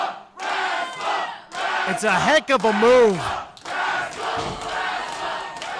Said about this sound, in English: This crowd is fired up early